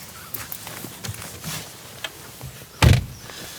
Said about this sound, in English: Let's pull back the frameless door and take a look.